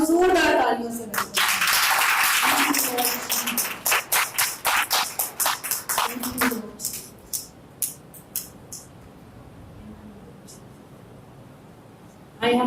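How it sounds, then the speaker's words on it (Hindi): Congregation at a Hindi-language Christian revival meeting bursts into loud, dense applause that gradually thins into scattered claps and fades, with a voice speaking over the opening. "तो फिर आए खुदा को जोरदार तालियों से वेलकम।"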